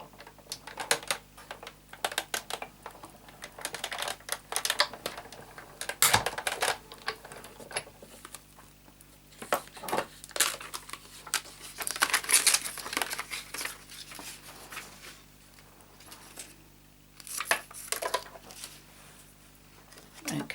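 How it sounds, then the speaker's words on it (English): Scissors snip through card to cut out a circle, a run of crisp clicks and crinkles at close range, broken by short pauses. "So now let's cut that one out."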